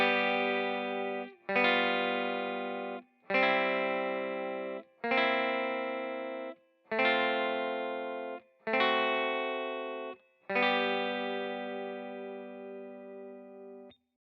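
Acoustic-sounding guitar strums six basic beginner chords one after another, each ringing chord held about two seconds and cut off before the next, clear and alone with no talking.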